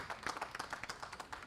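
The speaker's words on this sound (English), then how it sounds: "Another clap, please." Faint, distant audience clapping at a startup book launch in Abuja, a loose run of separate claps with an uneven rhythm rather than a full roar.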